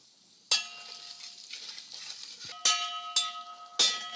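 Cumin seeds roasting in hot oil in a pan give a soft, close sizzle, punctuated by four sharp ringing metallic clinks of a utensil against the cookware.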